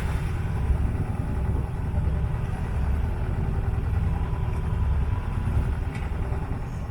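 A boat's engine runs steadily under motor while cruising the Ligurian Riviera off Italy, holding a continuous low drone and rumble with no break or change in pace.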